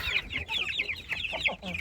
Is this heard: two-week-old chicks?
yes